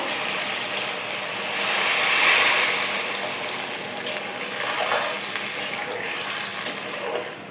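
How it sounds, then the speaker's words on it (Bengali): Water poured into a pan of vegetables that were being fried for a home-cooked curry, a steady broadband hiss and splash swelling briefly then settling into a continuous sizzle, close and fairly loud with no talking. "সবজিটাকে কিছুক্ষণ আমি ভেজে নিয়েছি তো এখন হচ্ছে কষিয়ে নেওয়ার জন্য পানি দিয়ে দেবো"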